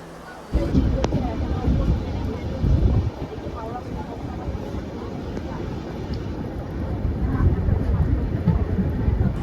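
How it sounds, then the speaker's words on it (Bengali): Passenger train pulling away from Durgapur railway station in heavy rain, a steady broadband rumble of wheels and rain that swells after a sharp onset and stays loud throughout. "ছেড়ে দিল আমাদের ট্রেনটি দুর্গাপুর স্টেশন থেকে"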